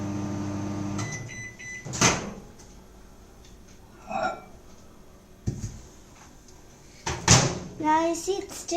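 A microwave oven melting chocolate for a lava cake hums with a steady tone, then stops with beeps, door clunks and clatter, while voices talk nearby.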